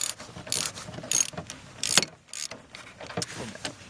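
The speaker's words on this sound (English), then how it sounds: "We're gonna remove the nuts up here from the strut." A ratchet loosens strut nuts on a Chevrolet TrailBlazer in several short bursts of quick, close metallic clicking, separated by brief pauses.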